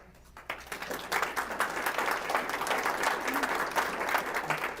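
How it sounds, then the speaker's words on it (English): An audience applauds a police sergeant after his talk on local police history, clapping swelling quickly into a steady, full round from a roomful of people. "Let's give him another round of applause."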